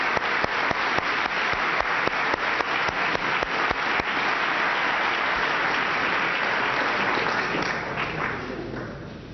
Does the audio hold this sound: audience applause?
yes